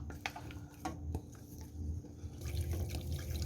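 Water is poured in a small amount into a chili sauce of chili paste and chili powder for braised salmon in soy sauce: a steady close splashing trickle that runs without a break and swells slightly toward the end.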